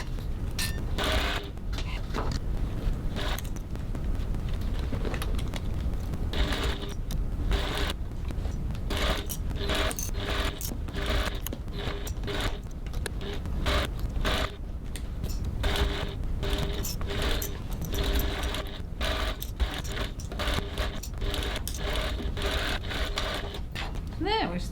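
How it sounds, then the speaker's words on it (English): A sewing machine stitching around the top of a fabric crossbody bag, a fast rattling whir running in bursts with brief stops, with a person talking over it. "Okay, so now I'm going to stitch all the way around the top of my bag"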